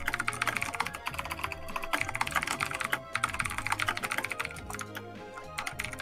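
Rapid, continuous typing on a computer keyboard, close and busy clatter of keys with brief pauses, heard alone without talk.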